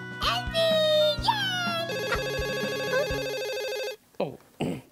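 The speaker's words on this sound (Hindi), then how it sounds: "ओह, फोन।" A cartoon telephone rings in a bright, repeated electronic trill over light music and other voices, then breaks off.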